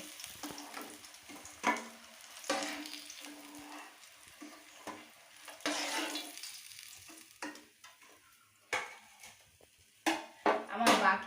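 Rohu fish fries quietly in a pan, a soft sizzle broken by sharp bursts of clatter as utensils knock against the pan and pieces are moved.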